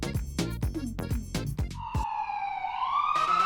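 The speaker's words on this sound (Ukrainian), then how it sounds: "Швидка допомога!" A cartoon ambulance's siren rises in a steady electronic wail after a burst of animated cartoon-car voices, loud and close for the final second and a half.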